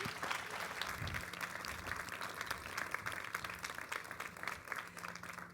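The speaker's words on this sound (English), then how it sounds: "give a warm round of applause for Shirin Neshat and Kimberly Bradley" An audience applauds two speakers at a premier artist talk, steady clapping filling the room for several seconds without pause and without any voice over it.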